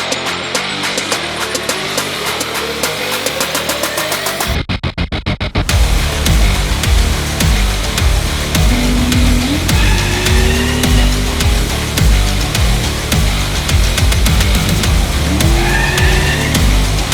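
A homemade dually Mustang drag car with four rear wheels makes its first test hit: a loud engine roar with revving and shrieking tire squeal, sustained and close, rising in pitch as it launches.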